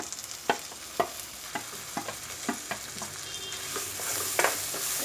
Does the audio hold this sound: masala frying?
yes